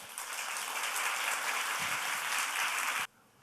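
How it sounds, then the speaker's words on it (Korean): A Korean church congregation gives loud applause to welcome a visiting pastor to the pulpit at a Sunday service: a dense, even roar of clapping for about three seconds that stops abruptly. "우리 목사님 나오실 때 우리 큰 박수로 환영하겠습니다."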